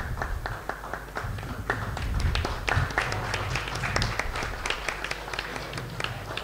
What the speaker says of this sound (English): Can we have a round of applause, please, for Mr. Anuj Agarwal.